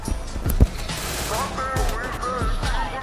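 Bursts of gunfire from the mobile shooter Free Fire crack out in a quick cluster near the start, then come in scattered, muffled shots while a voice talks over the game sounds.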